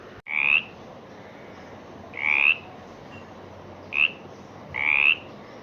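Frogs croak during monsoon rain, four short rasping calls spaced over a few seconds against a constant soft hiss of rainfall.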